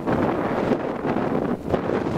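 Strong wind on flat open country along the Oldea track buffets the microphone with a loud continuous roar that gusts and dips, no other sounds standing out.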